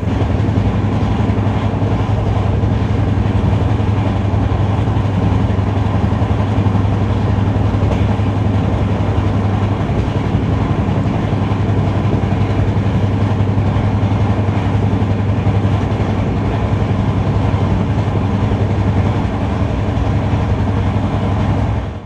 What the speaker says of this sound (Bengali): প্রায় মাঝরাতে ট্রেন তার সর্বোচ্চ গতিবেগে এগিয়ে চলল আমাদের প্রথম গন্তব্য হিজলির উদ্দেশ্যে